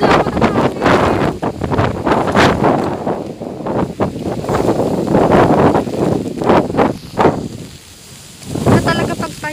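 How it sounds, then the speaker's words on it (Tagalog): Strong typhoon wind during a signal no. 4 storm in Silang, Cavite buffets the microphone in loud, irregular roaring gusts, with someone speaking over it at times. "Ang lakas ng anong hangin."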